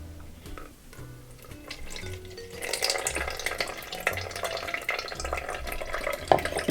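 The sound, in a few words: tamarind juice poured through a fine strainer into jug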